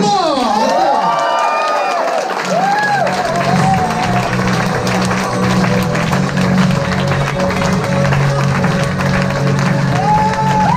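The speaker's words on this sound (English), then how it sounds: "Big applause!" Audience at an Amway training event gives sustained loud applause with cheering and whoops, a dense clapping crowd filling the hall, with voices calling out over it.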